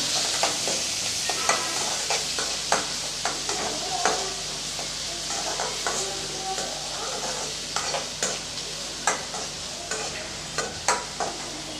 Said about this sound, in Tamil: சேர்த்து நல்லா வதக்கி விட்டுறலாம்